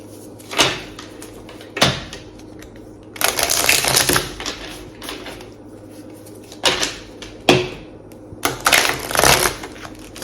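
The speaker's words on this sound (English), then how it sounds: "I'll do a good hard shuffle." A Mayan tarot deck is shuffled hard, giving repeated loud, dry riffling and slapping bursts at irregular intervals, close up, with no voice.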